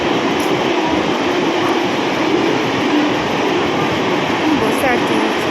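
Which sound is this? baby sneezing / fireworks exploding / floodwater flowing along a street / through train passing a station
through train passing a station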